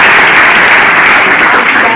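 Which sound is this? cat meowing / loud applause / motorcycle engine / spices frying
loud applause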